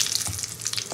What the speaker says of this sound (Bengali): এবার ফোড়নের উপকরণগুলো আমি তেলে দিয়ে দেবো